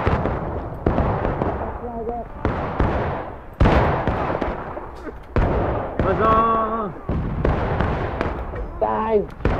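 Repeated sharp musket-style gunshots crack across a Civil War battle in the video game War of Rights, some close and loud, others distant, amid shouted commands and voices talking throughout.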